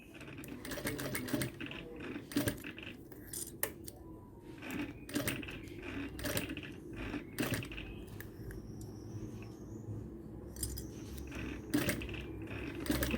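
Sewing machine stitching bias binding onto fabric, quiet close mechanical whirring in bursts broken by repeated sharp clicks and brief pauses.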